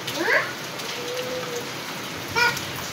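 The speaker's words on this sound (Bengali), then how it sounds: "প্রচন্ড বৃষ্টি হচ্ছে" Heavy rain falls in a steady, dense hiss of drops on surfaces, continuous and moderately loud, with a couple of brief higher chirping sounds breaking through.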